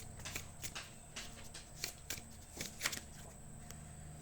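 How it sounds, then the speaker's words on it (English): Quiet, steady card shuffling with soft repeated riffles and flicks over a low background hum. "Hopefully it doesn't take me too long to shuffle."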